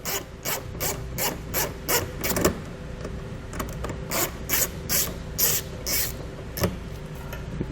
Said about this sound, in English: So we're going to start taking these off with our 7mm socket.